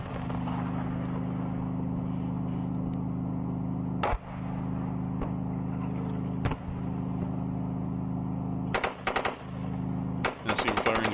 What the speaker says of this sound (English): Now see, we're firing the coaxial machine gun.